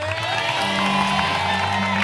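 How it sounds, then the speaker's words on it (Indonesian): A studio audience at an Indonesian comedy show cheers and applauds loudly and steadily, with crowd shouts and whoops running throughout. "Tepuk tangan dulu untuk Mbak Ina."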